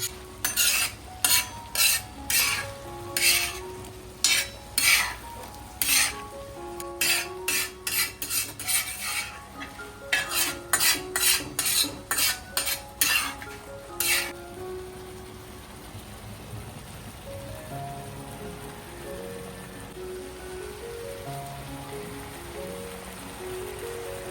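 Prawns cooking in a pan and being stirred, giving about fifteen seconds of loud, regular metal scraping strokes that then fade into quieter background sound with tonal notes.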